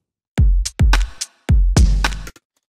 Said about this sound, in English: So I have a basic drum beat here.